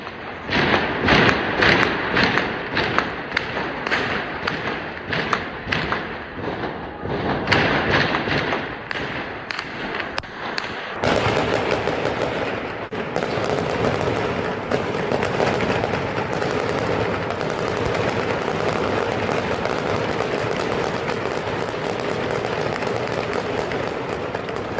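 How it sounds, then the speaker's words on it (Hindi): Police or army firing indiscriminately to drive back a crowd, with rapid bursts of gunfire and heavy thuds for about ten seconds, then a dense, continuous roar of shooting and noise, loud and unbroken, with no speech. "इन लोगों को खदेड़ने के लिए अंधाधुंध फायरिंग कर रही है वहां की पुलिस या सेना"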